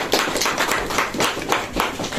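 Clapping rings out at a family birthday greeting, a steady, fairly loud patter of many hands in quick uneven rhythm that carries on without talk throughout.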